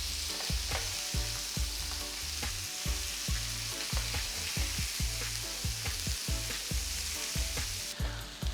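Steak sizzles steadily in a hot pan, a dense continuous crackle with sharp spitting pops throughout, close and alone without talk.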